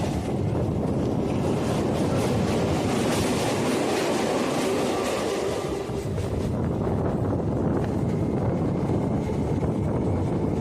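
A Sealdah–Dankuni local train crosses the Keshtopur canal bridge in Kolkata, giving a loud, continuous rumble and rattle of wheels and carriages throughout, with a dense rolling roar.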